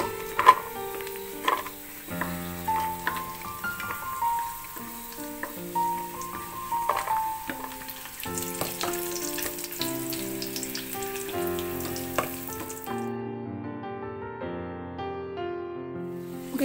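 Cashews and almonds sizzle and fry in a pan for a banana-flower payasam, with a steady crackling hiss and occasional stirring clinks, close and continuous, with no voices.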